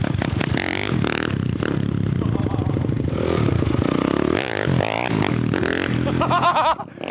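A motocross dirt bike engine revs hard in short bursts, its pitch sweeping up and down with sharp throttle blips and rattly mechanical clatter, loud and close throughout.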